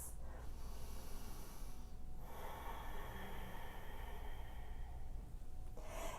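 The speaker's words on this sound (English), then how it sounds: "Take a couple of breaths." Deep, steady breathing during a yoga downward facing dog pose, with a few slow inhales and exhales close to the mic over a continuous low room hum.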